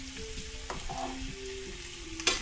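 Breakfast potatoes are being stirred in a frying pan, giving a steady sizzle with scraping of the spoon and a sharp clack near the end.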